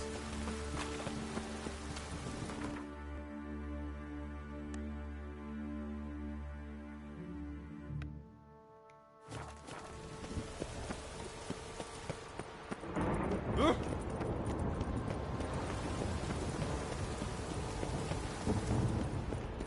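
Heavy rain in The Witcher 3: Wild Hunt pours without pause while thunder rumbles and cracks, with a brief near-silent dip midway before the storm swells back louder with a sharp crash.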